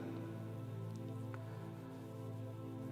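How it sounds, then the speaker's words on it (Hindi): Steady rain falling in Dubai, a continuous dense wash of droplets on hard surfaces with no voices, constant and close throughout. "ये भी शुरुआत थी, अभी बारिश इतनी नहीं थी"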